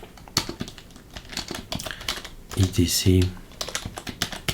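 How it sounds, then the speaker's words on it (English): Keys clatter on a computer keyboard during an Arch Linux install, a run of quick taps with a louder burst of keystrokes in the middle, heard alongside a voice talking. "This is typing."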